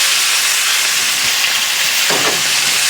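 Chuck roast burgers sizzle loudly in a pan with a steady, dense hiss of frying fat, close and constant, broken only by a brief scrape or clunk near the end.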